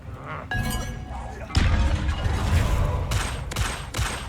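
A Confringo fire spell blasting in the video game Hogwarts Legacy, several sharp explosive bursts and crackling impacts in quick succession, loud and close, with game combat sounds around them.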